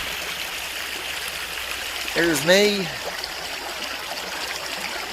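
Creek water streams steadily as a broadband wash through the whole clip on a sunny day at a gold-prospecting sluice in West Virginia, with a brief voice speaking over it midway.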